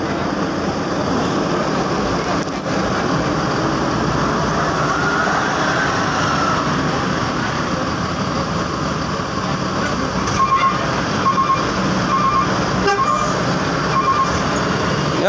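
A coach pulling out of the PO Haryanto bus garage gives a loud, steady engine rumble and drone that holds for about fifteen seconds, with faint clanks near the end and no talking.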